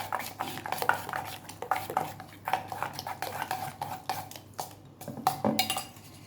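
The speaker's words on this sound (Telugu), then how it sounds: "ఎగ్స్ని బాగా బ్లెండ్ చేసుకోవాలి" A hand whisk beats eggs against a bowl in a home kitchen while an omelette is being made, giving quick, uneven metallic clinks and scraping strokes that run continuously at close range, with no talking.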